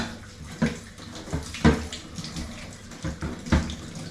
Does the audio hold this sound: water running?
yes